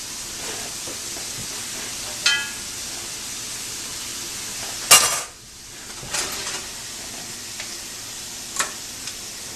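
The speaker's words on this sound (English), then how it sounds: "So now what we're going to do is we're just going to drain this off into a colander." Cooked hamburger meat being drained into a colander: faint sizzling hiss with a few scraping clinks of a utensil against metal, and one louder pouring splash midway, with no talking.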